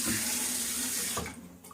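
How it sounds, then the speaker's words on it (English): Tap water runs in a strong, steady close stream, added to a shaving soap, then cuts off with a brief splash and drip. "Add a little more water."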